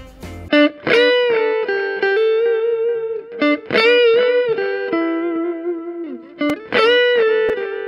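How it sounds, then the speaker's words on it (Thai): Sustained electric guitar solo notes ring out with echoing delay repeats from a Valeton Dapper Mini pedal trailing after each phrase, a processed, effected tone played alone without any voices. "เสียงดีเลย์โซโล่ของคุณอ่ะจะหวานอย่างแน่นอน"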